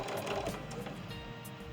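A sewing machine runs close by as it sews the final seam joining a quilt medallion, giving a brief, continuous mechanical whirring and clicking.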